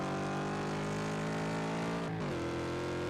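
Onboard engine roar of an SCCA race car in iRacing at Oran Park, a loud sustained harmonic drone that drops in pitch with a gear shift about two-thirds through, then holds steady.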